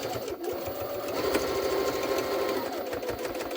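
A Jaguar SJ-23 sewing machine runs on thin thread with its pleating mechanism, giving a steady close whir and fast rhythmic needle clatter that holds at an even level without pause.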